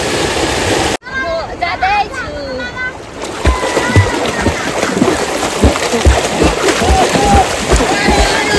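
Water splashes and sloshes steadily as someone swims in the flowing Biring Khola stream in Nepal, with brief voices near the start and a sudden jolt before the splashing.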